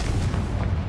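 A single burst of the Confringo spell erupts in Hogwarts Legacy, a loud, close, booming blast that fills the whole moment with dense low rumble.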